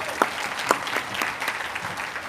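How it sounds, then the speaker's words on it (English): Audience applause at a health careers summer internship closing ceremony, steady, moderately loud clapping from a seated crowd with a few sharper individual claps standing out, and no talking. "How about a round of applause for them?"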